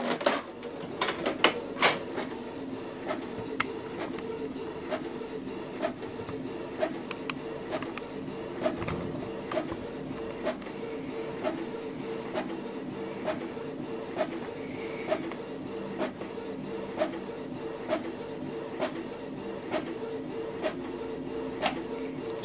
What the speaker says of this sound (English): So we scan this document black.